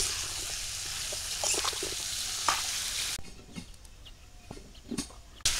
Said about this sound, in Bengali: একটু হালকা ভাজা দিয়ে নেই এই কচু